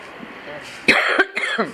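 A single sharp cough close by, followed by a couple of smaller throaty bursts, over a steady background hiss.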